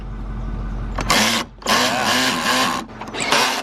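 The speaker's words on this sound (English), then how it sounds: "so he's got a power drill" A power drill whirs in three bursts, starting and stopping with short pauses, close and loud with no voices.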